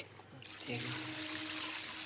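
Raw water pours into mutton curry masala in a pan, a steady close rush that builds quickly and keeps flowing.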